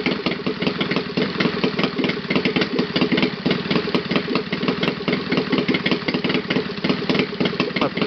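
Saito FA 270T twin-cylinder model aircraft engine idling without glow support, a steady close, loud buzzing drone with a slightly uneven firing rhythm throughout.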